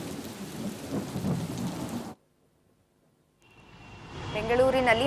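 Heavy rain in Bengaluru pours down as a loud broadband roar, breaks off into near silence, then returns and swells with rumbling thunder-like low energy and tonal ringing.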